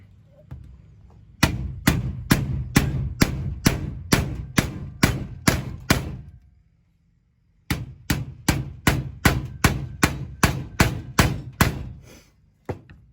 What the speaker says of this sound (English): take your hammer and just bend these tabs over both ways